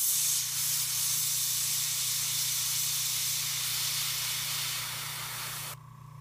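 Paint sprays from an airbrush or spray can onto a Blood Angels Assault Marine miniature, a steady close hiss held for several seconds that fades slightly before cutting off abruptly near the end.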